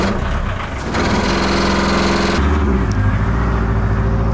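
A narrowboat's diesel engine cranks and catches after the glow plugs are warmed, then settles into a loud, close, steady idle with a rhythmic low throb, the tone shifting partway through.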